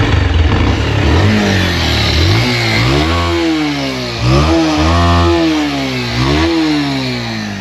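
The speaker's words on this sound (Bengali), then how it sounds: "ইঞ্জিনের সাউন্ড একটু শোনা দিই" An old used motorcycle engine runs close by, rough and loud, revving up and down in several uneven surges with no talk over it.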